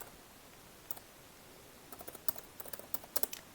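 Quiet, close-up typing on a computer keyboard, with a lone key click early on and then a loose cluster of soft taps over faint background hiss, no talking.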